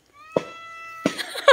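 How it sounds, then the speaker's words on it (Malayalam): A cat keeps watch beside people line fishing on a riverbank and gives two or three close, clear meows, the first a drawn-out, wavering call followed by shorter ones, with no talk over them. "പൂച്ചയും കാവലിരിപ്പുണ്ട്."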